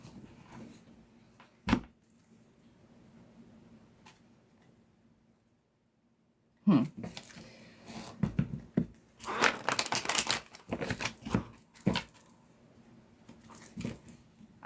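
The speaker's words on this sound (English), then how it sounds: "I'm giving you a better shuffle." A deck of tarot cards is reshuffled, giving soft crinkling and papery riffles in bursts after a quiet stretch, fairly close and moderately loud.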